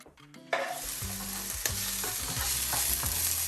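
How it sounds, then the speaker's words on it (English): Mushrooms, onions and garlic sautéing in a pan for a vegan shepherd's pie, giving a steady close sizzle with stirring scrapes and a few sharp utensil knocks, some faint tonal background sound underneath. "Now I'm just sauteing mushrooms, onions, and garlic."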